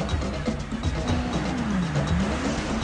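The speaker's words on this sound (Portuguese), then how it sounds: "O carro tá me fechando, tá me deixando ultrapassar." A car engine in the Stickman Escape game drones at mid pitch, its tone rising and falling as the vehicle accelerates, steady and fairly loud with no speech over it.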